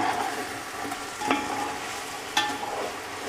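Chicken for biryani frying and stirred in a pot, giving a steady crackling sizzle with two distinct scraping strokes of the spoon, close up and without speech.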